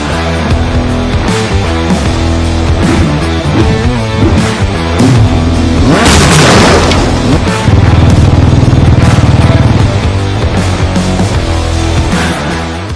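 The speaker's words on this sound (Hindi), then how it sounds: "तभी वहाँ पे स्कूटर लेके ग्रैनी आ जाती है" A motor scooter engine buzzes in beneath loud, busy music, with a rushing whoosh swelling midway and a steady low drone after.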